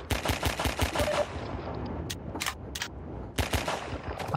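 Video game gunfire: bursts of rapid, loud shots in quick succession, a pause with a few scattered shots, then another burst near the end.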